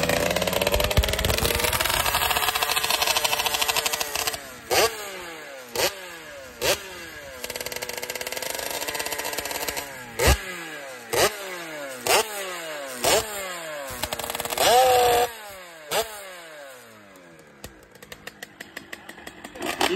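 A 1986 Yamaha DT motorcycle with an aluminium tank idles roughly, then revs up again and again in sharp bursts, each rise and fall in pitch close and loud with a buzzy two-stroke rasp, the throttle blips coming in a quick irregular series.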